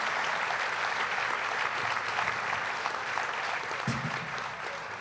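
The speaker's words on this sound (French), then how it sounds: "On peut les applaudir." Audience at a round-table gala applauds steadily, a dense wash of many hands clapping throughout, fairly loud and fading slightly at the end.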